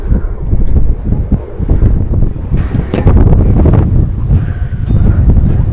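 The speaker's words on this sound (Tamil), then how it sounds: "அவ்வளோ காற்று அடிக்குது இங்கே." Strong, steady wind roars and buffets the microphone atop Jebel Hafeet mountain near Al Ain, loud and continuous with gusting swells.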